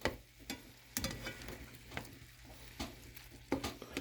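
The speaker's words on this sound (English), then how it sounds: "Now here we are stirring bacon." Bacon fries in a pan and is stirred, giving a soft, continuous sizzle broken by several sharp clicks and scrapes of the utensil against the pan.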